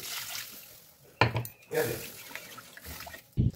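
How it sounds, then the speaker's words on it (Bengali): Water is poured into a pot of sautéed potatoes for a fish and potato curry: brief splashing bursts of running water over quiet kitchen background, closing with a short clatter. "এবার এর মধ্যে দিয়ে দেবো জল"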